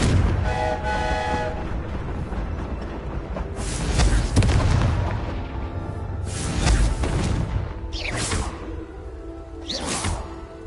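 Confringo spell blasts erupt in Hogwarts Legacy, several loud whooshing explosions spaced a couple of seconds apart over a rumbling background of game noise.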